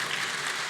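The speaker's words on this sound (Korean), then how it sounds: "여러분 박수 쳐주셔서 너무 감사드리고요." Church congregation applauding during a Sunday praise worship service, a dense, steady wash of many hands clapping that fills the whole moment at even loudness.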